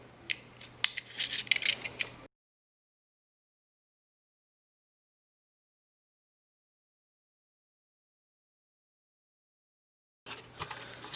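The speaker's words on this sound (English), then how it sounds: "So let's cut the plastic first." Plastic wrap on a Samsung Galaxy A21s phone box is cut with short, close scraping and snipping sounds. A long stretch of silence follows, then brief faint handling at the end.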